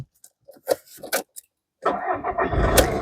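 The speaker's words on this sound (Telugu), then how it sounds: "ఈ కారు సింగిల్ సెల్ఫ్లో స్టార్ట్ అవుతుందా లేదా అన్న చూపిస్తున్నాను" A 2015 Volkswagen Polo Highline's engine cranks and catches on the first try, settling into a steady idle after some earlier interior clicks and rustles; the engine noise is close and fairly loud.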